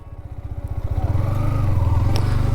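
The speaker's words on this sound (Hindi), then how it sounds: "ओए बाइक स्टार्ट कर एक बार" A motorcycle engine starts up and revs, its pulsing idle building into a steady, louder rumble over a couple of seconds, heard close by with no talking.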